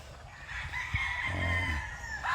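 A gamefowl rooster crows on a farm in the Philippines, a loud drawn-out call close by, with clucking at the start.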